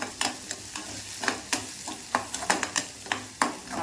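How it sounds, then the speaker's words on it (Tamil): Onions, mustard seeds, curry leaves, urad dal and dried chillies sautéing in a pan, a soft steady sizzle broken by a dozen or so sharp scraping stirs of a spoon at an uneven rhythm, fairly quiet and close. "கடுகு, கருவேப்பிலை, உளுந்து, வெங்காயம், வரமிளகாய் எல்லாம் போட்டு வதக்கி விடுவோம்."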